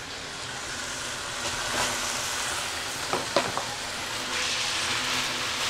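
Bacon sizzling as it is added to rice vermicelli frying in a pan for bihun goreng, a steady broad hiss with a few sharper spits and crackles partway through, close and fairly loud with no talking.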